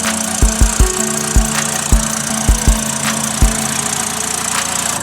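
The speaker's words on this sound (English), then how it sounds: "You can hear the exhaust leak real bad." An idling engine with a rough, ticking exhaust leak at the wastegate, loud close puffs and pops sputtering irregularly over a steady low drone.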